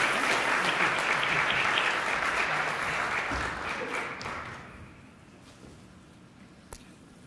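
Sustained audience applause after a keynote address at Breech Week 2023, loud and dense at first, then thinning out and fading to a quiet room with a single sharp knock near the end.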